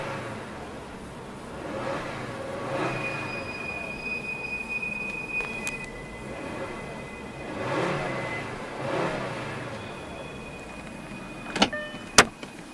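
A 2008 VW Beetle 2.5 hatchback engine idles and rises in a few rev swells, with a whining tonal note over the rumble and sharp clicks near the end, all close and without talk.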